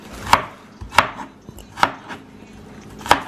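Onions for tacos being chopped with a knife: four sharp, evenly spaced chops, close and crisp, with quiet pauses between strokes and no talking.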